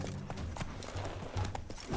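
Roach, a horse in The Witcher 3: Blood and Wine, gallops in a brisk, steady clip-clop of hooves, close and continuous throughout.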